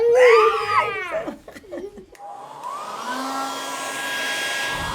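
A loud cat-like wail opens, followed by a few soft sounds, then a hair dryer switches on in a bathroom and blows with a steady, whirring hum.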